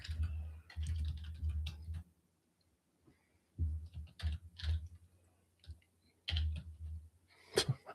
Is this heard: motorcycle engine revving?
no